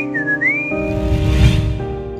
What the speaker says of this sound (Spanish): La busca desesperadamente en los árboles, con el silbido al que siempre le contestaba.